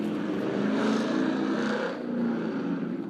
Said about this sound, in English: That is a loud car.